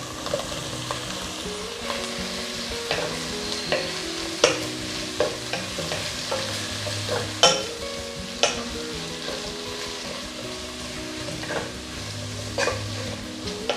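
Chopped tomatoes, onion, garlic and green chilli sautéing in a pan for chicken biryani, with a constant sizzle under regular spatula scrapes and sharp taps against the pan, close and even.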